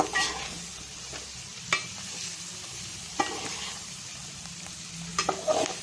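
Food stir-fries quietly in a pan, a low, even sizzle punctuated by a few sharp spatula scrapes and taps spaced a second or two apart.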